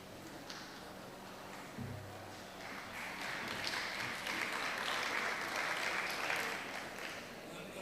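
Scattered applause at a livestreamed forum session, fairly faint and distant, building from a few claps into a broad steady patter.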